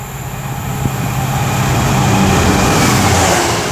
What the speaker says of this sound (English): now about to pass by is going to be the Tesco Express. It's going to be worked by DRS 66